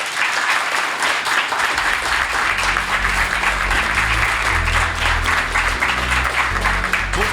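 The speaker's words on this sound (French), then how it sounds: "Je vous demande d'accueillir avec un tonnerre d'applaudissements Jérôme Guedj." A thunderous round of applause from a studio audience welcoming a guest onto a talk-show set, dense and loud, with a low hum underneath, sustained evenly throughout.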